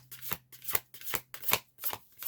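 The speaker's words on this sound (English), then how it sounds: "All the cards we'll be using today are thoroughly shuffled." Tarot cards are shuffled by hand in a rhythmic run of about six crisp riffling bursts, close and clear, each separated by a short pause.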